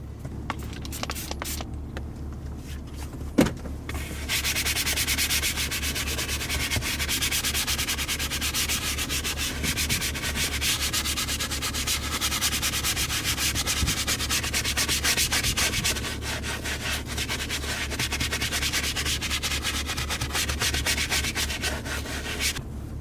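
Steady, close rubbing and scrubbing of grease off a BMW F80 M3 car part goes on nonstop, with a brief quiet start and a single knock near the beginning.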